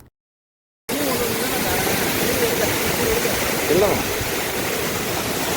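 Chinna Suruli waterfall in the Meghamalai forest range roars as a loud, steady rush of falling water after a moment of silence, with a person speaking briefly over it.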